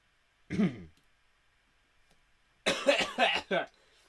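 One short cough sounds nearby, followed after a pause by a rough, voiced burst of throat sounds; the surroundings are otherwise quiet.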